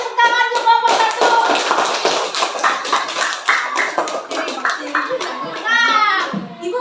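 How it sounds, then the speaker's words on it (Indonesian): Schoolchildren in an Indonesian classroom clap for a team during a teaching lesson, a fairly close, uneven patter of hand claps mixed with children's chatter and shouts throughout. "Beri tepuk tangan untuk kelompok 1."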